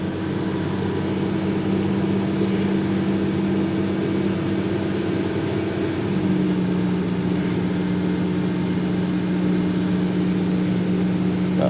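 A tractor drives along a hillside while its blade cuts back the slope, giving a steady, loud engine drone with a low hum that shifts pitch partway through, continuous with no pauses or voices.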